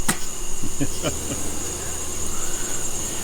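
Honey bees swarm close around a forehead-mounted light during a hive trap-out, making a steady, dense buzz right at the microphone, broken by a few sharp knocks early on.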